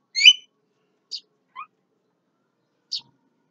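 Javan myna (jalak kebo) calls in daytime: a few short, separate whistled chirps spaced over several seconds, clear against otherwise silent background.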